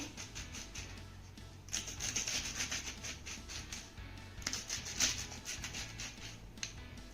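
A knife slices colocasia leaves lengthwise down the middle, making faint, close scraping and rubbing strokes in a few short irregular bursts with no speech over them.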